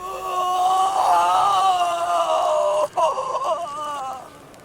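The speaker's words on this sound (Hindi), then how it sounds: "लड़की के रोने की आवाज़ सुनाई दी।" A girl cries and wails in a long, drawn-out, quivering moan, loud and close, with a brief break before fainter sobbing, a horror-story effect for a lonely train platform at night.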